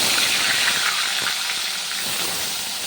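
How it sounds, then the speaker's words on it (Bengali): Bata fish fries in hot oil in a wok, a loud, steady hiss and sizzle close up that runs unbroken throughout, with no voices. "কড়াই তেল গরম হয়ে গেছে, মাছটা ভেজে নিই।"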